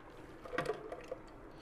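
Watery ground urad dal batter is poured into a pot, making a soft, quiet liquid splash and plop that clusters near the middle of the clip, with a faint background around it.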